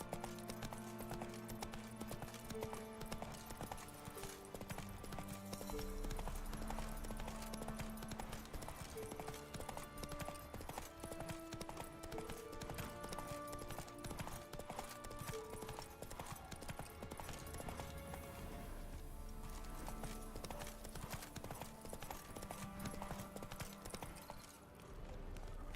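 A horse galloping in The Witcher 3, with steady rapid hoof clip-clops running throughout over a dense musical score, close and continuous.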